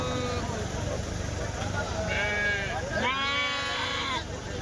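A large male goat bleats in repeated wavering calls at a Bakrid livestock market in Kadiri, heard over a steady crowd murmur and people talking nearby.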